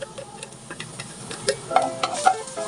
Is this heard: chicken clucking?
no